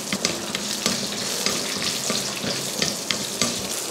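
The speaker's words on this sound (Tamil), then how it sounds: "இப்போ இதை வதக்கிடலாம்." Pepper, fennel, garlic, ginger and shallots sautéing in a pan, a dense loud sizzle broken by repeated scraping stirs and light utensil taps.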